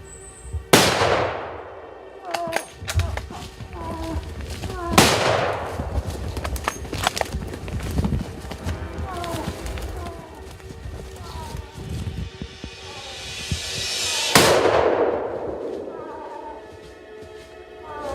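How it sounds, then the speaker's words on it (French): Three loud, sharp rifle shots ring out during a moose hunt in the New Brunswick woods, widely spaced with the last coming well after the first two, each followed by a rolling echo tail. "Les trois tirs ont atteint l'animal et lui ont laissé aucune chance."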